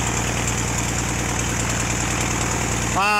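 A Pitts S-2B aircraft engine, reportedly corroded and due for a 12-year corrosion inspection, runs steadily on the ground with a loud, throbbing drone, then rises sharply in pitch near the end.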